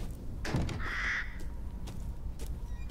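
A crow caws once in Resident Evil Village, loud and near, amid a rumbling outdoor ambience with a few faint knocks.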